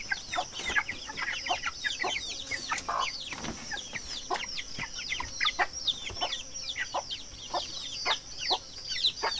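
Three-week-old broiler chickens on a farm cluck and cheep in a dense, continuous chorus, many birds calling at once at close range with no talk over them.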